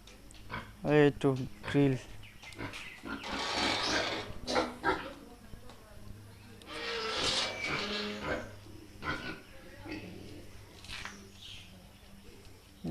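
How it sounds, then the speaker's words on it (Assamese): Pigs on a pig farm grunt and squeal in short bursts, fairly close, while someone talks over them. "এইটো মোৰ বৰ গাহৰি আছে।"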